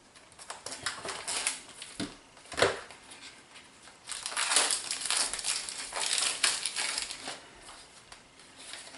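Plastic casing of a CADDX Infra analog night camera being pried open, with repeated crackling, crunching snaps and scraping close up, in bursts at about 2.5 seconds and again from 4 seconds onward, with no talking.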